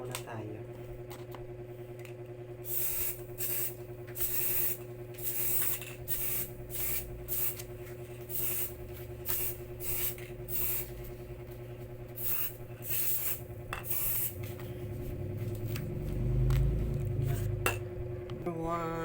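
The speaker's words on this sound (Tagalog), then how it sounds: "mag-spray muna tayo" A spray bottle fires many short, close hissing bursts in irregular runs over a steady background hum, with people talking at times and a louder low rumble near the end.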